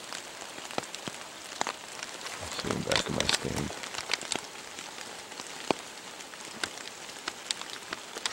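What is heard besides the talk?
rain falling outdoors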